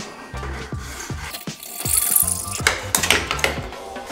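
A hacksaw cuts PVC drain pipe with repeated rasping back-and-forth strokes, close and fairly loud, each stroke a rough scrape in an uneven rhythm with light rattles between.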